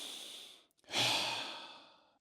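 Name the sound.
breathing in and out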